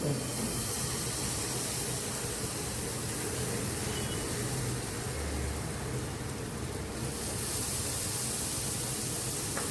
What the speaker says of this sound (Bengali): 1 চামচ করে এরকম নিয়ে ব্যাটারটা আমি প্যানের উপরে দিয়ে দিচ্ছি